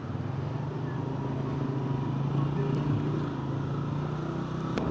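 Traffic crawls through a jammed Naran main bazaar, with a steady low engine hum and idling vehicles close by, faint and continuous, with a couple of brief higher clicks.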